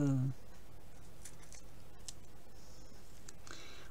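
Small Teflon-coated scissors snip tiny pieces in quiet, faint, irregular clicks and cuts, close up against soft room noise.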